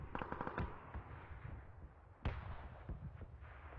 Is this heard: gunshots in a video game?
yes